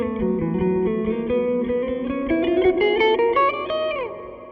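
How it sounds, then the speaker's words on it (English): A guitar line runs through the spring reverb setting of an M-Vave Blackbox, with a steady string of picked notes rising in pitch and bending. Each note trails a wet, springy decay, heard alone without talk. "Spring reverb."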